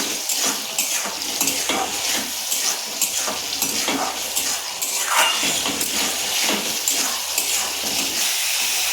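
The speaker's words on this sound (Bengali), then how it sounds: "ছানাটা ভালো করে ভাজতে হবে, যেহেতু ভালো করে এইভাবে আমি ভেজে নেব।" Chhana (milk curds) fries over medium-low heat in a pan, a continuous wet sizzle and hiss broken by repeated scraping stirs at a steady rhythm, close and fairly loud with no talking.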